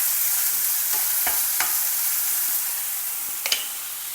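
Chopped onions sizzle steadily in a pan with a broad, even frying hiss, broken by a few sharp clinks of a spoon against the metal near the start and end.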